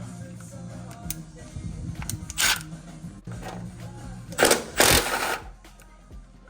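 Bursts of ratcheting and metallic clicking as a tool works a ground strap bolt off a Mazda RX-7 FD during fuel tank removal, with a few louder rattling spurts and small clanks.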